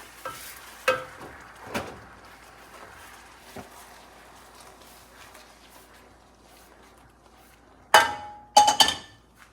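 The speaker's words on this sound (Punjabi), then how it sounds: "ਥੋੜੀ ਥੋੜੀ ਪਾ ਕੇ ਆਪਾਂ ਨਾਲ ਹੀ ਇਹਨੂੰ ਹਿਲਾ ਦੇਣਾ ਹੈਗਾ ਆ" A spoon stirs besan (gram flour) in a bowl while water is gradually added for no-ghee besan barfi. Quiet scraping is broken by a few sharp clinks and knocks, and a quick cluster of louder clinks comes near the end.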